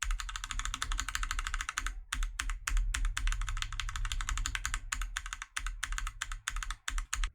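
Typing on a Varmilo MA87 keyboard fitted with light Varmilo EC switches, a dense, steady stream of close, crisp keystrokes with a few brief pauses and no talking.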